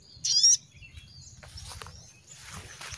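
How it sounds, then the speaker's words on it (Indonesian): A single short, high bird chirp rings out near the start, followed by faint scattered rustling over a low background hum. "Burungnya sudah bersuara ya"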